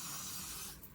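Got2b Glue hairspray sprayed onto hair, one steady close aerosol hiss about a second long that tapers off at the end, alone with no talk.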